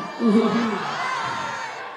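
Concert crowd at a full venue in Calgary, Canada cheering and shouting, a loud burst of whoops that settles into a steady roar for a couple of seconds.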